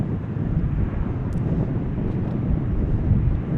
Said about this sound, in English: We do have a bit of Crosswind